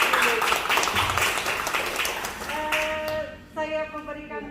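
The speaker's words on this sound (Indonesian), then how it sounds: "Kita berikan aplaus dulu." A lecture audience at a university international relations event gives a few seconds of lively clapping that fades out as music with sustained tones rises underneath.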